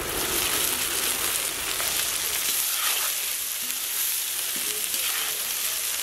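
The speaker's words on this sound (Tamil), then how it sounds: "எண்ணெயிலே வெங்காயம் பச்சை மிளகாயெல்லாம் நல்லா வதங்கிடுச்சு, அதோட சுத்தம் பண்ணி வச்சுக்கிற காலிஃப்ளவரையும் சேர்த்து நல்லா வதக்கிக்கலாம்" Onion, green chili and cauliflower sauté in hot oil in a pan, giving a loud, continuous sizzle and crackle with occasional stirring scrapes, close by and without talk.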